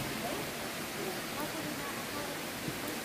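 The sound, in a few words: water flowing in a cave stream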